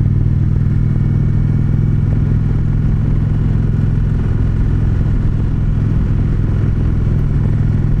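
A 2019 Indian Chieftain Darkhorse motorcycle being ridden, its engine a steady, loud low rumble that holds constant throughout with road and wind noise layered over it.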